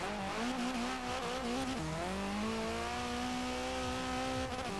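A Ford Fiesta XR2 drag build in Forza Horizon 4 revs hard and accelerates through several gear changes, its engine note climbing and dropping with a brief tire squeal, loud and close with no talk.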